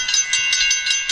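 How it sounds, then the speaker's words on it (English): Railway crossing bell effect played from a phone app for the LEGO City Cargo Train set 60198, a bright electronic ding repeating about every fifth of a second, steady and fairly loud with no talking. "Crossing sound."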